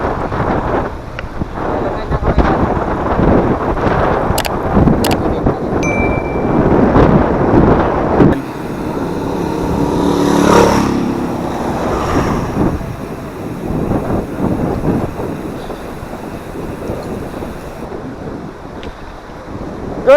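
Wind buffets the microphone in loud, uneven gusts during a mountain bike ride in Benguet, Philippines, with bursts of talking and outdoor noise mixed in.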